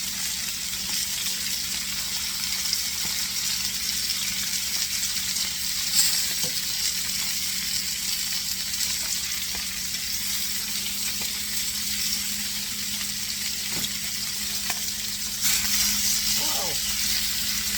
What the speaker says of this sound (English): See how it sears so nicely? I have the flame on high.